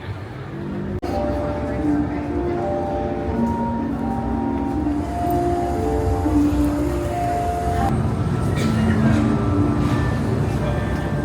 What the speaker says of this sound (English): quick little train ride